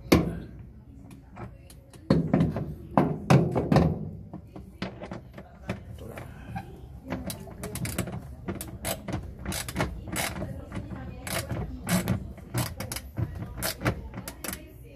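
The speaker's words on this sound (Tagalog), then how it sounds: "8mm na socket para mabilis tanggalin. Bali meron siyang 3 bolt." An 8mm socket backs out three bolts holding the drain motor on an LG 8.5 kg washing machine that won't drain. Close, fairly loud ratcheting clicks and metallic creaks come in irregular bursts throughout.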